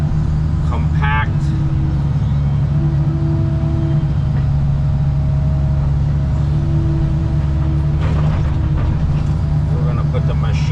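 A digging machine works on a modular house build site, its loud, steady diesel engine drone running throughout with a few clanks and metallic knocks near the operator.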